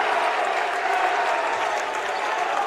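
Home crowd at a high school boys' basketball game, Archbishop Mitty vs Bellarmine College Prep, cheering and applauding in a dense, steady roar that fills the gym without letup.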